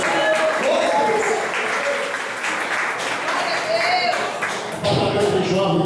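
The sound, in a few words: congregation applauding in church service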